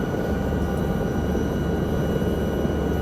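Steady, loud rotor and turbine drone of an AS315B Lama helicopter in Microsoft Flight Simulator 2024, continuous and unbroken throughout with no voices.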